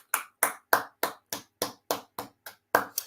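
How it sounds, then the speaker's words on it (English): Applause at a certificate ceremony, heard as about ten evenly spaced, fairly faint claps in a steady rhythm rather than a full crowd roar. "Here is a round of applause."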